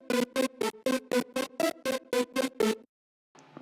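A music loop: a loud synth chord figure repeating in about ten short evenly spaced stabs, played alone, then a brief pause before another sound begins.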